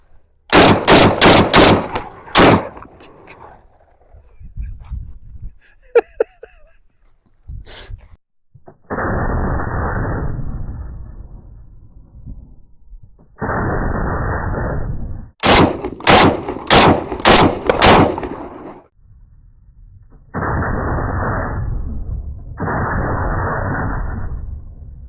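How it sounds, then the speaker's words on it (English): Sharp, loud gunshots from a bullpup rifle firing 3-inch magnum rounds, heard in quick clusters of several shots, with long rumbling, roaring stretches between the bursts and no talk. "We're going to be shooting 3-inch mags out of this bullpup."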